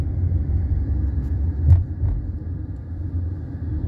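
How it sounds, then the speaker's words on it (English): Steady rumble of heavy highway traffic on a backed-up I-95, cars and engines droning continuously from a distance with a slight swell midway. "Look at all that traffic down there. I-95 backed up."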